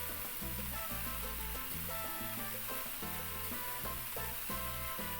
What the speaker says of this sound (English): then I'm gonna add some tomato sauce